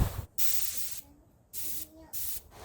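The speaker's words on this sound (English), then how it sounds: "let's try with the painting pistol" Paint spray gun spraying a thin mix of used motor oil and diesel onto a fence, with three steady bursts of hissing spray separated by short pauses, close to the microphone.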